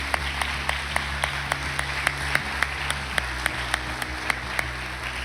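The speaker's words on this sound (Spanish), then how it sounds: "Ahora démosles un merecido aplauso, por favor, a todos ellos." A church congregation applauds teachers: a steady crowd of clapping hands carries across the whole stretch over a low hum, with a few sharper, distinct claps standing out at a regular pace.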